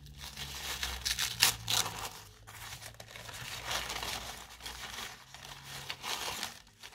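Yellow crepe paper crinkling and rustling, close up, coming in bursts over several seconds with no voices.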